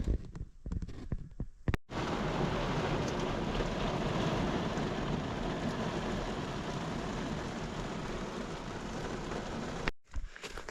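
A brief rain shower driven by wind falls outdoors in Sweden during berry picking, a dense, steady hiss of rain and gusts, close and enveloping, cutting off abruptly with brief rustling before and after.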